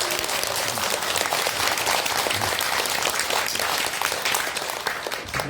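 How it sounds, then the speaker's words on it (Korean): An audience at a Buddhist dharma assembly in a temple breaks into sustained, dense applause, many hands clapping together loudly and evenly throughout with no pause. "박수 한번 쳐주세요"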